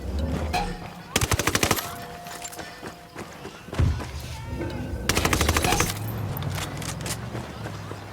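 Automatic weapon fire in a tactical shooter video game rattles out in two rapid, loud bursts of closely spaced shots, with single heavy thuds and game ambience in between.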